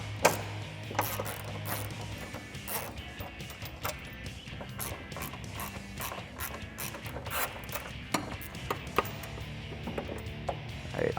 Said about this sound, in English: You're gonna remove the 2 nuts holding on the hood to the hood hinges.